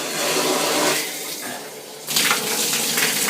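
Water rushes hard through a bare shower pipe with no head attached, a steady loud hiss that dips briefly and then surges back stronger, filling the bathroom with spray noise.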